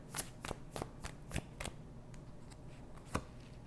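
Tarot cards shuffled by hand in a quiet room, a string of crisp slaps and riffles at an irregular rhythm, close and fairly faint, with no talking.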